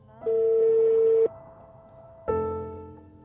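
Telephone call signal tone on a call in Bangladesh: a loud, steady electronic beep lasting about a second, a short pause, then a second identical beep that begins to fade, with faint line hiss in between.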